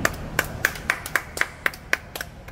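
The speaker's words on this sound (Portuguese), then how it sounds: "Palmas, gente, aqui." About nine sharp hand claps at a quick, fairly even pace, close and clear against a quiet background.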